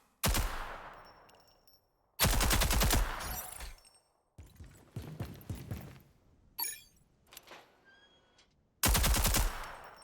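Bursts of automatic gunfire ring out in the Rogue Company video game, loud rapid volleys separated by silent gaps, with scattered shots and mechanical clatter between them.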